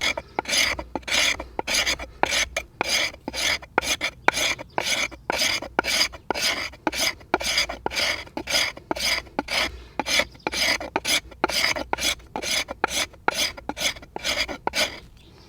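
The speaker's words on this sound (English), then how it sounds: "we can still make fire with this bit of material that I'm scraping." Rhythmic knife scraping on slightly damp wood to make tinder shavings: dozens of quick, rasping strokes in a fast, even rhythm, close and clear, with no speech.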